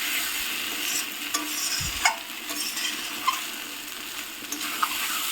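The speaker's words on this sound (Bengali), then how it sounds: "এখন এর মধ্যে দিয়ে দিচ্ছি ভেজে রাখা ডিমগুলো সব।" Fried duck eggs stirred into a sizzling curry masala in a pan, a continuous close frying hiss with a spoon scraping and occasional sharp clinks against the pot.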